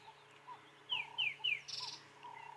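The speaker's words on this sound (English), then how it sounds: "And the birds are just chirping away like there's no tomorrow." Birds chirp in the African bush at sunrise on a safari, giving a few clear, rising whistled calls and brief trills, mid-distance and moderately quiet against a calm, still background.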